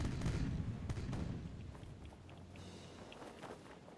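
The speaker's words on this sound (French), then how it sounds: "On a fait un tir ravageur" Ship cannon fire in the pirate video game Age of Pirates, a heavy booming volley followed by a rumbling decay, loud and fairly close, with no talk over it.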